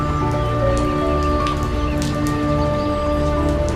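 Steady rain patters in a cartoon setting, a dense continuous hiss under a constant layered musical drone.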